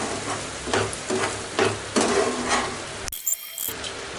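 Masala with salt for malai kofta sizzling in a pan while a spoon stirs it in repeated scraping strokes. The sizzle is steady and close, broken by a short quiet gap near the end, with no talk.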